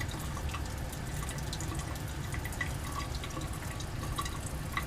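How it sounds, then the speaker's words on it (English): Liquid drips steadily from a reflux condenser during a Grignard reaction as the ketone is added, making small repeated close drip sounds over a constant wet background hiss. "I've got some reflux going on that's causing it to drip as well as the rate of addition"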